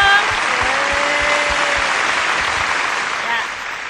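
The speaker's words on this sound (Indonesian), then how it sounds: "Kasih tepuk tangan dong." A family church retreat audience claps steadily and loudly for a few seconds, with a speaking voice running through it.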